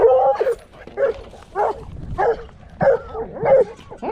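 Several dogs on a ranch barking, yipping and whimpering excitedly before being let out for a run; short bursts come in an irregular rhythm, close and loud, with no talk over them.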